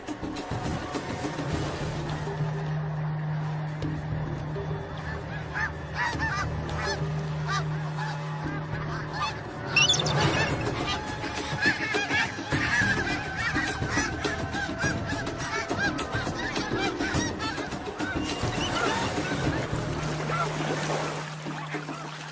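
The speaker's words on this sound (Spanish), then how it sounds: "Los ánsares nivales realizan espectaculares maniobras evasivas." Snow geese honk repeatedly in a loud, overlapping chorus as they dodge an attacking eagle, with calls rising and falling through the whole stretch and a brief burst of louder commotion midway.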